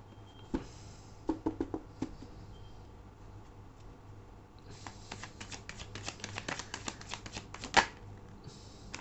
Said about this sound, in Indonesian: aku akan langsung ambil 5 kartu untuk melihat bagaimana perasaan dia terhadap kamu.